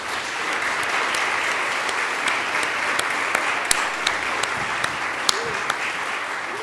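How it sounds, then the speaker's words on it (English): A church congregation applauds during an Advent Sunday service, with a sustained wash of clapping from many hands and a few sharper individual claps standing out, while voices murmur underneath. "Congregation, give them a round of applause."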